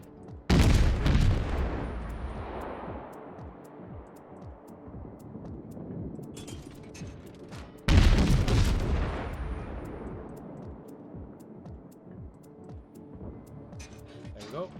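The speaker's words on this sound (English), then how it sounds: "Now let's fire on this New York." Two heavy naval gun salvos boom from a battleship in the World of Warships game at the New York, each a loud blast that rolls off into a long fading rumble, several seconds apart.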